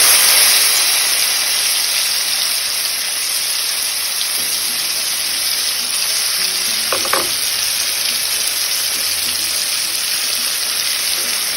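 Lemon rice ingredients sauté in a pan with a loud, continuous frying hiss that stays even from start to finish, with a faint utensil tap midway.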